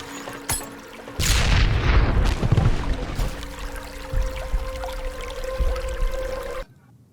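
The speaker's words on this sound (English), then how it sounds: "Watch out, grenade!" A grenade going off in the PC shooter Armed Forces Corp, a sharp pop followed by a loud, rumbling explosion burst that trails into a long debris wash before cutting off abruptly.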